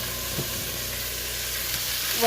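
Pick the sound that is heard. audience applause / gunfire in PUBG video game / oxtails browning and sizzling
oxtails browning and sizzling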